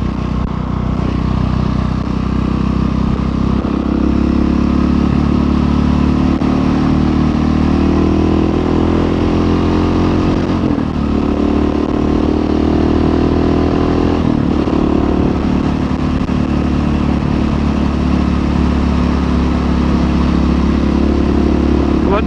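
Husqvarna 701 supermoto motorcycle ridden along back roads in the Scottish borders, its engine droning loud and steady throughout with continuous wind rush, small shifts in pitch as the throttle varies.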